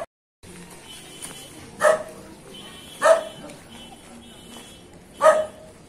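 A puppy gives three separate sharp barks, spaced about a second or two apart, fairly close and loud over a quiet outdoor background.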